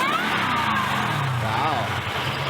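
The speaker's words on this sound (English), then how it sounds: "Rev it up, bro." A 5.7 Hemi engine revving at close range, a loud sustained engine roar with rising and falling pitch, with voices talking over it.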